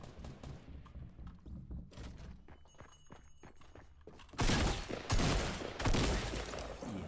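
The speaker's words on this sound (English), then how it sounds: "Left a shotgun here. I'm going to blast this kid down here." Shotgun blasts and other gunfire in Fortnite Battle Royale, loud, dense bursts that get heavier in the second half, with thumps and footsteps before them and no talking.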